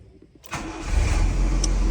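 A genuine 2000 Honda City engine starts with a sharp catch, then settles into a steady, fairly loud mid-pitched idle close by, with no talking over it.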